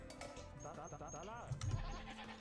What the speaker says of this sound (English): Need to pick up this sheep